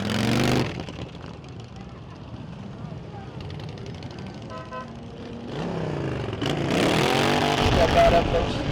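Motorcycles ridden by veterans at a Palm Beach County charity ride. Engines rumble throughout, rising to a loud, close roar as bikes pass toward the end, with voices in the background.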